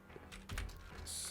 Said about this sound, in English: it's not easy to type